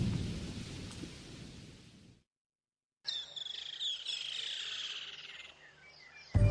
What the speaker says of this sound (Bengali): আষাঢ় মাস, কয়েকদিন ধরে প্রচুর বৃষ্টি